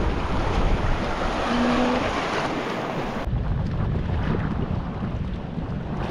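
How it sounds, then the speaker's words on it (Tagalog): Choppy sea during the northeast monsoon, broadband wave wash and wind rumble roaring steadily throughout from a small boat at sea, dense and close with wind buffeting the microphone, no talking. "Medyo maalon-alon mga idol. Amihan yung dagat mga idol."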